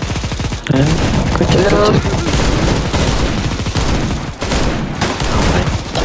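Dense, loud automatic gunfire from the CS:GO Zombie Escape mode on the ze_panic_escape map, firing continuously across the whole stretch while people shout over it.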